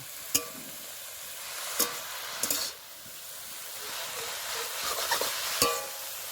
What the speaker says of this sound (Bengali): দিয়ে দেবো স্বাদ মতো লবণ আর একটু লবণ দেবো ব্যাস এবার ভালো করে ভেজে নেব